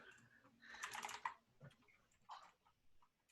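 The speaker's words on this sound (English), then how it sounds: "Someone is typing." Typing on a computer keyboard during an online English class: faint, rapid clicking keystrokes in short bursts over a low background hum.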